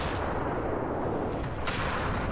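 An RPG rocket launches and blasts in a Vietnam War game mod, a loud dense roar of fire and explosion filling the whole moment, with a fresh crack near the end.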